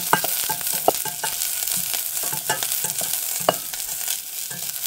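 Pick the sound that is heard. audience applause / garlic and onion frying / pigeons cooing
garlic and onion frying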